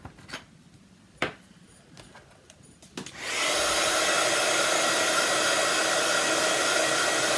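A heat gun embossing a craft card switches on partway through, its loud steady blowing roar holding constant to the end after a few faint clicks and taps.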